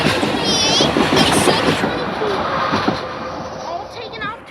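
Railroad cars of a commuter train bound for Malvern roll past at a station, with rumbling, clattering wheels and a faint squeal, fading somewhat toward the end while a voice speaks in the background.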